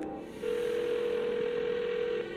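A telephone dial tone plays from a TV crime drama as a character places a call, a steady continuous tone holding for nearly two seconds over low background noise.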